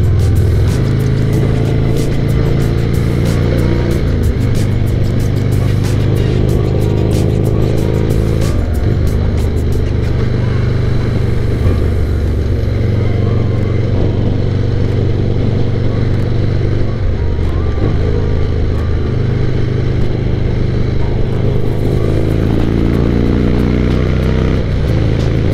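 A Harley-Davidson Sportster Street Tracker engine runs loud and close throughout, with a deep rumbling idle and a few rises in revs.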